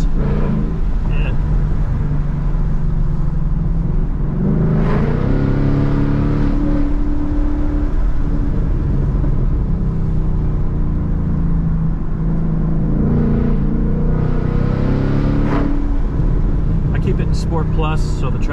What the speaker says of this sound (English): Motor sounds good, bouncing off the rock walls.